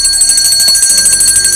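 A bell rings loudly and without a break, a fast shrill metallic trill like an alarm bell, constant for the whole stretch with no voices.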